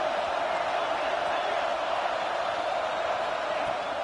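A raucous stadium crowd roars without a break at a college football game between Wake Forest and NC State in NCAA 26, a steady dense wall of cheering and shouting that stays loud throughout.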